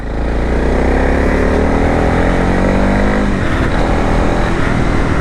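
A Honda CRF 300L dual-sport motorcycle with upgraded suspension accelerates, its engine loud and close, the rising drone climbing through the gears with a brief shift near the middle.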